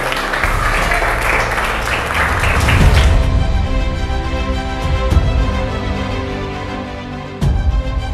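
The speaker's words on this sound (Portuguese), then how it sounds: "Uma salva de palmas, pessoal." An audience bursts into dense applause that swells and holds for a few seconds, then thins into scattered claps fading out over a steady room tone.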